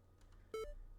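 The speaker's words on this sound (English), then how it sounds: "A sound reminiscent of a very primitive computer rings out, presumably from her temporary speaker head" A robot's temporary speaker head gives off a primitive computer-like beep-boop: a couple of short, quiet electronic tones in quick succession over faint background hum.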